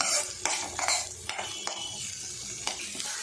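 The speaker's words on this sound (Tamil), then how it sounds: "அதில் சேர்த்துட்டு வெங்காயத்தை கோல்டு கலரில் வதக்கி விட்டுக்குவோம்" Onions sautéing in oil with cumin and fennel in a pan, with scraping stirs and light clinks of a spoon against metal over a soft, steady sizzle.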